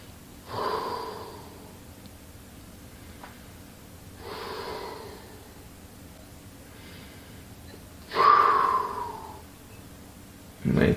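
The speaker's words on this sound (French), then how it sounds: "Une grande respiration toujours." Slow, deep breaths during a relaxed glute and lower-back stretch: three or four long airy inhales and exhales spaced a few seconds apart, close and fairly quiet, with no talking.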